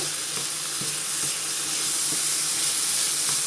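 Salted chicken curry with coconut milk sizzles loudly and steadily in a pan as it is stirred, with soft scraping taps of the spoon audible through the continuous hiss.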